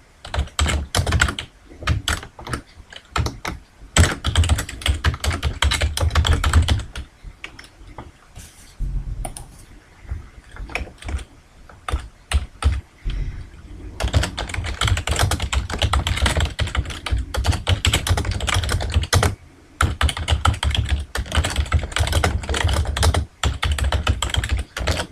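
Fast, continuous typing on a computer keyboard, dense clattering keystrokes in long runs broken by a few short pauses, close and fairly loud with no talking.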